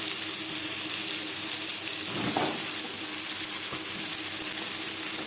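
Pointed gourd and potatoes sizzle steadily in a pan, close and constant, with a brief soft scrape of stirring partway through and no speech.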